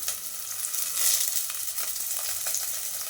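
Chopped onions and curry leaves dropped into hot oil for a chickpea, cauliflower and potato kuzhambu, a dense loud hiss of frying that swells briefly, close and without speech.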